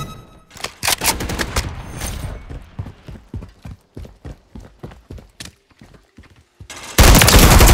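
A remote turret in Modern Warfare 3 fires rapid bursts, loud and close, followed by a run of evenly spaced shots and a sudden heavy blast of noise at the end.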